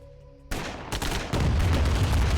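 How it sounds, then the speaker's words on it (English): Friendly-fire gunfire in Command & Conquer Tiberium Dawn erupts suddenly after a quiet moment, then builds into dense, continuous rattling shots and rumbling booms that stay loud to the end. "We got some friendly fire going on there"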